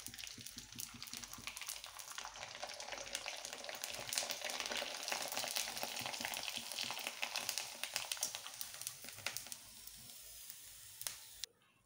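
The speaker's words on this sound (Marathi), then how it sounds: "तेल चांगलं गरम झालं, आता पापड तळून घेऊ याच्यामध्ये आपण।" Sabudana papad fry in hot oil in a wok, giving a steady close-up crackling sizzle that eases off toward the end with a few clatters.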